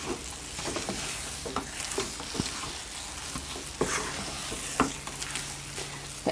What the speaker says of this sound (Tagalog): Kailangan lang po natin ng tiyaga sa paghahalo dahil mas tumatagal, mabigat haluin ito.